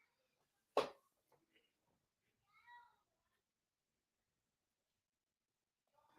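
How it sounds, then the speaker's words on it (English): A domestic cat gives a short, faint meow mid-clip in an otherwise quiet room, following a sharp knock and with a little soft movement around it. "That's the cat."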